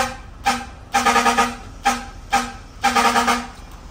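A vehicle horn from an aftermarket horn module blares in a rhythmic pattern of short and longer toots, loud and close, with brief gaps between blasts.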